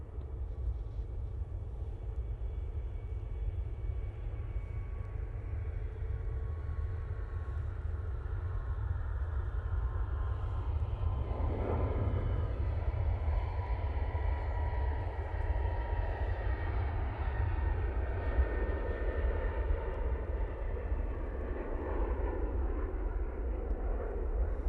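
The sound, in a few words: Gulf Air Boeing 787-9 Dreamliner landing at Manchester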